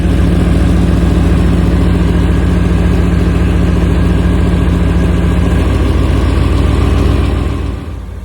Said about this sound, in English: The only leak you heard is a big exhaust leak.